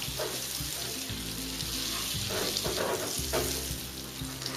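Cashew nuts are stirred into bubbling butterscotch praline in a pan, giving a steady close sizzle and frying hiss with soft stirring scrapes throughout.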